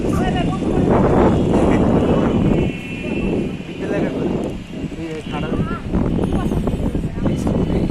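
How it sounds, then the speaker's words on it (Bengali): Strong wind buffets the microphone in a continuous low rumble on a rooftop in Dhaka during street clashes, with someone talking over it throughout. "বাতাস আছে"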